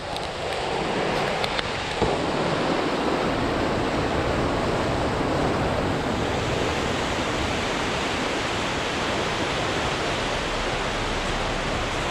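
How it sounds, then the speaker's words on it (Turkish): Rough, turbulent water churning with waves at a spring called Ceylanların Pınarı, where a concrete system directs the waves; a steady, loud, broadband rush fills the whole stretch without letup, with no voices. "Buradan itibaren su alabildiğince hırçınlaşıyor arkadaşlar."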